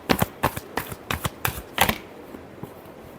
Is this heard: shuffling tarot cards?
yes